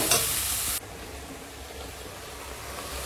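Ripe tomatoes fry in a pan with a steady close sizzle, loud and bright at first, then settling into a quieter continuous crackle.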